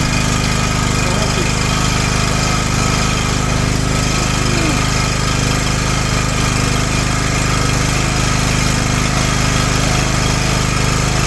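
A generator converted to run on gas keeps up a steady engine drone with a low mechanical hum, loud and constant throughout with no pauses.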